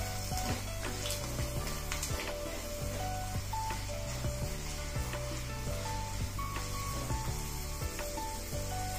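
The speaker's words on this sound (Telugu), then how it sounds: "సిమ్ లో పెట్టి దోరగా వేయించాలి తాలింపుని." Tempering spices with asafoetida fry in oil on a low flame, giving a steady, close sizzle with light crackles and occasional clinks throughout.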